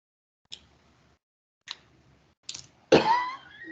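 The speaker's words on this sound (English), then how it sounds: "I am coughing, but I guess it's good." A few clicks or taps, then a single sharp, close cough, with no talking.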